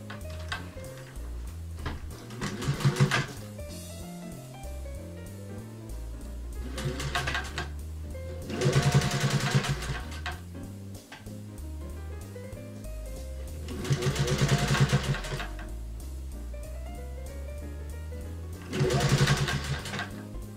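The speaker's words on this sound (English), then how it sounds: "We'll do the same backup stitch and then continue going straight." A sewing machine stitches fabric for a guinea pig cuddle cup bed in several loud, fast rattling runs, separated by quieter pauses with faint ticking.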